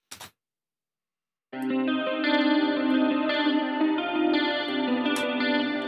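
A clean electric guitar plays sustained chords drenched in delay and reverb, starting after a short pluck and a brief silence, steady and moderately loud.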